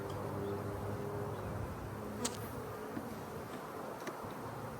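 Honey bees buzzing during a spring hive inspection and mite treatment, forming a dense continuous drone at close range with no pauses.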